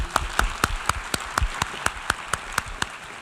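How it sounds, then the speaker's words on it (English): Sharp claps ring out in a slow, steady rhythm, roughly a dozen evenly spaced beats, with no voices. "Really a big round of applause to you."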